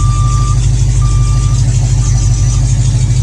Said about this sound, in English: It's got a backup alarm on it.